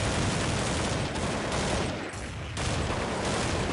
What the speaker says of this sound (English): Why is my gun randomly shooting?